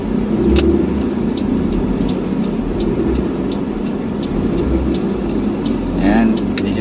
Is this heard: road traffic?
yes